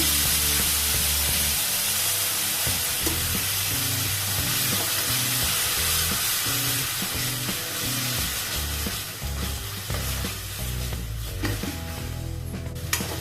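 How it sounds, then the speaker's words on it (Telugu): Ground tomato purée hits a pan of sizzling onion and ginger-garlic paste for an Indian tomato dish. A loud, steady frying sizzle continues throughout, with stirring and faint rhythmic background tones, and no talking. "ఇక్కడ 3 టమాటోస్ గ్రైండ్ చేశాను, అది వేస్తున్నాను."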